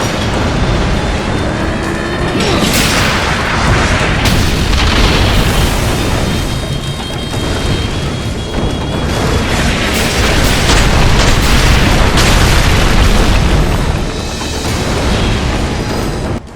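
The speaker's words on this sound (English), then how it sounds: "Pull down to fire the ballista." In God of War: Chains of Olympus, a ballista fires and a ship explodes, heard as a continuous loud, dense roar of booms and crashing debris that runs without pause.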